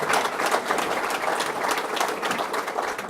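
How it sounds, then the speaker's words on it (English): Steady, dense applause from a crowd gathered for a bass fishing tournament event, continuous and close throughout the short stretch with no voices over it. "Let's give him a round of applause for being here."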